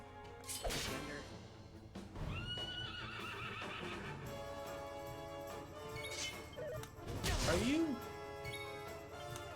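A horse whinnies loudly amid Dragon Quest XI game sound effects with clopping hooves and a few crashing thuds, while voices talk.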